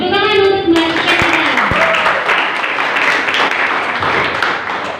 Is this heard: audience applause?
yes